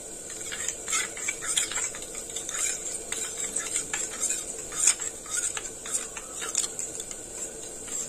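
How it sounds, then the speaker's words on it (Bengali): A spoon stirs chili, coriander and cumin powder with water in a bowl, making quick, repeated scraping clinks and light squishes in an uneven rhythm, close and fairly clear. "এবার জল দেব। মশলাটা গুলে নেব।"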